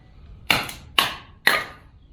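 A hammer drives down on firewood over a Kindling Cracker splitter, giving three sharp, evenly spaced strikes about half a second apart, each a crisp crack with a short decaying ring, close and loud with no talking.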